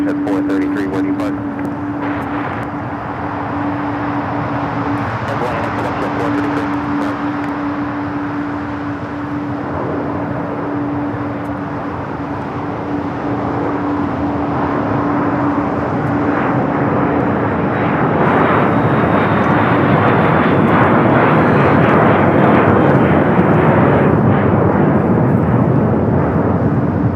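A Falcon business jet rolls down the runway at LAX and climbs away, a loud continuous engine roar with a steady tonal hum that swells stronger in the final seconds, with voices talking over it.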